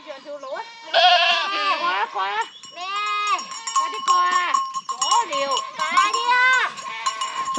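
Goats bleating repeatedly, close and loud, as a herd moves along a mountain trail in a karst grassland area, with overlapping calls throughout and a faint bell-like tone.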